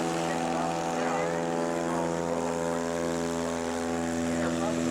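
A small bush airplane lifts off from a rural Alaska runway, its propeller engine drone steady and loud throughout, with strong harmonic hum and no talk.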